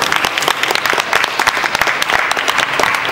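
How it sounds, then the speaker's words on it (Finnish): A crowd at the DigiExpo 2015 gaming event applauds loudly for a group of Star Wars costume fans, dense fast clapping filling the space without speech. "Aplodit, kiitos."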